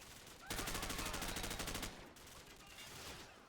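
Heavy automatic gunfire and grenade blasts from a Call of Duty 4 battle, a dense, loud burst of rapid shots lasting over a second, then trailing off into lower rumbling combat noise.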